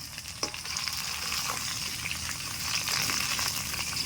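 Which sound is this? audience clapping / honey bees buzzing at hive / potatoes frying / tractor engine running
potatoes frying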